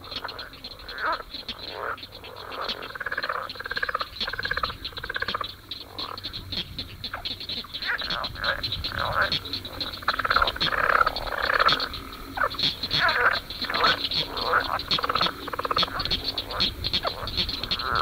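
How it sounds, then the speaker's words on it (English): Leopard frogs (Rana pipiens) giving their mating call, a continuous chorus of rapid rattling, snoring croaks that repeats in pulsing bursts, loud and close, with no voices. "A somewhat smaller frog with paired vocal sacs that appear as balloon-like protuberances on each side of the throat is a leopard frog, Ranapipiens. This is its mating call."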